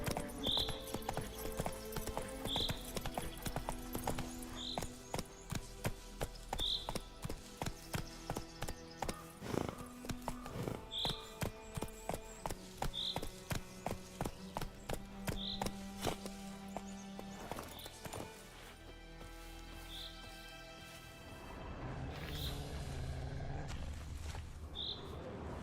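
Hoofbeats of the horse Roach trotting in The Witcher 3, a steady even clip-clop running close and clear over a busy game soundscape, slowing and fading toward the end.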